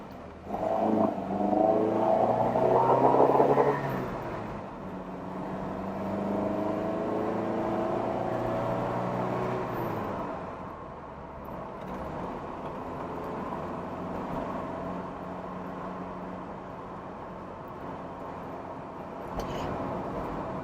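A classic Lancia Fulvia engine pulls hard through the gears from first, revving high with rising whine, dropping briefly at each shift, then droning steadily at cruising speed from inside the car.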